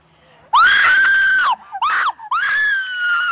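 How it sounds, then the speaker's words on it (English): A woman lets out a long, piercing scream, breaks off briefly with a short shriek, then screams again, loud and close. "Want to demonstrate one of your screams for the camera?"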